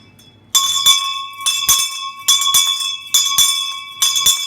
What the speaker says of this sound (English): that's a small bell.